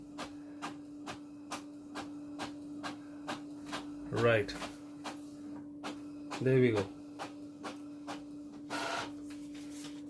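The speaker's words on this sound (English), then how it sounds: "this printer does print borderless on A4 size paper, so let's see how that works out" An Epson L6170 ink-tank printer printing borderless on A4 paper runs with a steady hum and regular clicking ticks, broken by a few louder mechanical whirring passes as the page feeds; a voice speaks briefly.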